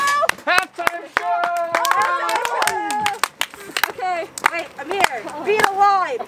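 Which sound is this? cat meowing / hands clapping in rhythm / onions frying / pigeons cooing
hands clapping in rhythm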